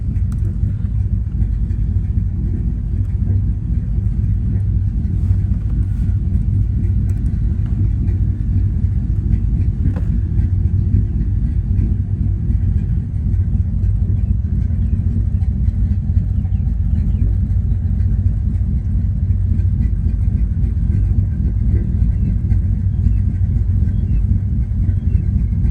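A Chevrolet Silverado pickup engine with a ghost cam tune idles steadily with a deep, continuous low rumble, close and unchanging, no voices.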